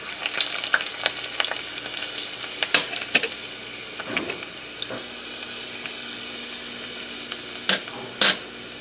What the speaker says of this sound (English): our oil is hot now, so we're gonna add our chopped sliced garlic there